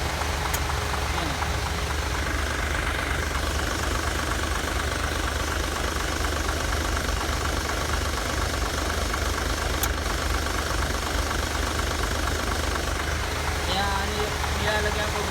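A truck engine idles steadily with its air-conditioning compressor running, a continuous mechanical drone with a faint knock throughout, close and even in level, with no one speaking over it.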